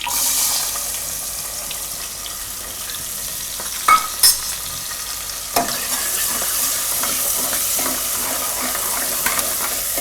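Onions frying and being stirred in hot oil with asafoetida and curry leaves in a pan, a steady close sizzle broken by a few sharp clinks of the spoon against the pan.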